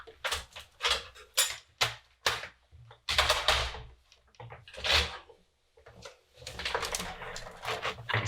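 Keys clacking on a Commodore 128 keyboard, irregular bursts of sharp mechanical taps with short pauses, close and fairly loud.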